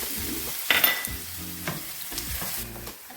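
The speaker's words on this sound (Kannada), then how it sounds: "ಸ್ವಲ್ಪ ಎಣ್ಣೆ ಹಾಕಿ ಇಟ್ಕೊಂಡಿರೋ ಸಣ್ಣ ಈರುಳ್ಳಿಯನ್ನು ಒಗ್ಗರಣೆ" Small onions tossed into a little hot oil in a pan for tempering crackle and sizzle in bursts, with scraping stir strokes between the quieter moments.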